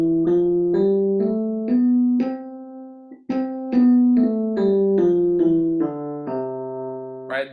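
An Ionian (Western major) scale is played as a steady run of distinct melodic notes stepping up and back down, bright and close-miked, with a brief pause midway and no voices.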